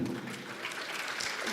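Audience clapping at a business delegation event, a soft, even spatter of hands throughout a brief stretch, fairly distant and light.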